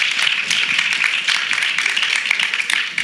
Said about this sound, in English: join me in giving them all a round of applause